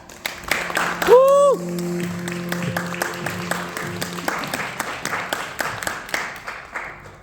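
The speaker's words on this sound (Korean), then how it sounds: "환영의 박수 부탁드립니다." Audience applause at a fintech demo day presentation, with dense, scattered clapping that continues throughout, and a brief rising tonal sweep near the start.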